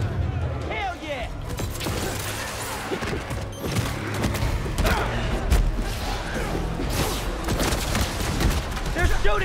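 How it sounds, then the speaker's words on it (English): Dense gunfire and thudding impacts rattle through a Spider-Man 2 game scene aboard a New York subway, a steady busy barrage with people chattering over it throughout. "They're shooting stuff."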